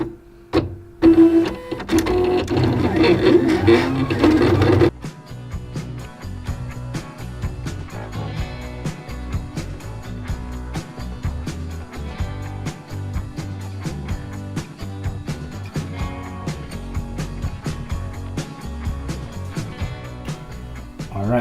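A Siser cutting machine slices an EasySubli transfer sheet, a loud busy whir for the first five seconds, then a steady stream of quick mechanical clicks and shuttling blade-carriage motion that runs on with little pause.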